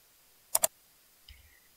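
An End key pressed on a computer keyboard while typing in Microsoft Word gives two quick, crisp clicks close together, followed by a faint, brief rustle in an otherwise quiet room.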